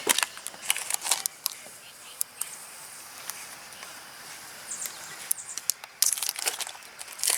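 Protective film peeled off a new Koyorad radiator for a Subaru, close crinkly tearing and crackling in bursts with quiet gaps between.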